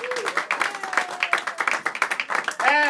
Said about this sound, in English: Once again, a big round of applause for the King Serpent Pirates